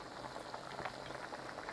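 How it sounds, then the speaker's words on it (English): Korean spicy beef soup, yukgaejang, boiling in a pot, a continuous soft bubbling and popping close by at low volume, with no voices. "And you just let it boil for another 10 minutes and you'll be ready."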